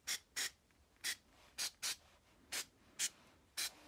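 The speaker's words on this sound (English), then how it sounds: "I'll just use this one, spray that in everywhere," Cleaner is sprayed into a Velo SoleX 3800 carburetor being restored, heard as eight short hissing bursts at an uneven pace. The bursts are faint and close, with no talk.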